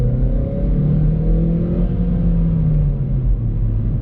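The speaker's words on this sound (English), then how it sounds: "So now the car is in sports mode, and let me accelerate." A VW Polo GT TSI accelerates in sports mode, heard from inside as a steady low engine drone with rising pitch and road rumble, continuous and fairly loud, with no talking.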